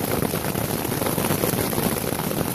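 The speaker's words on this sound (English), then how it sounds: "Yep, lots of hail." Dense, steady pattering of hailstones striking surfaces on a mountain trail, a continuous broadband hiss with no pauses or voices.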